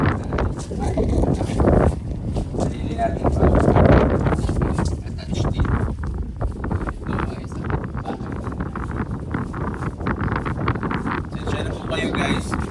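Strong gusty typhoon wind roars and buffets the microphone throughout, loud and continuous, with voices talking underneath.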